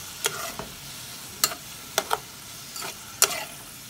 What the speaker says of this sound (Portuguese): Agora a gente deixa refogar.